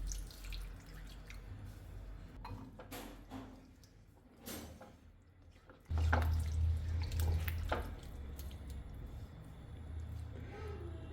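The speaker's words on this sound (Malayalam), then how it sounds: "ബാക്കിയുള്ള പാലും കൂടി ഒഴിക്കാം" Coconut milk squeezed from grated coconut poured into a Kerala kadachakka (breadfruit) curry, a soft liquid pour and dripping under steady kitchen background with a few clatters.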